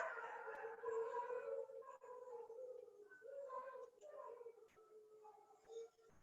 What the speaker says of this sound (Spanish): Mis perros escucharon una alarma de carro y ya me están respondiendo al llamado